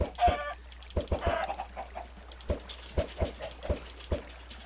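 Minecraft chickens cluck in short, uneven bursts, a few squawky calls among softer clucks, close by and alone with no voices.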